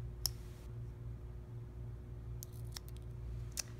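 Scissors trim excess straw and paper from handmade recycled magazine beads: a single snip, then a small cluster of quick snips near the end, faint and close over a low steady hum, with no talking.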